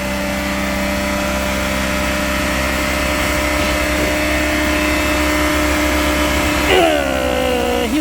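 LPG car engine held at around 4000 rpm with the brake pressed, a steady loud mid-pitched drone that stays constant throughout, with a slight change in pitch near the end.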